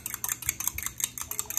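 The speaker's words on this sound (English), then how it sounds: "and fork whisk it" An egg whisked with a fork in a small bowl for egg wash, quick irregular clicking taps of metal tines against the dish, close and fairly quiet, with no talking.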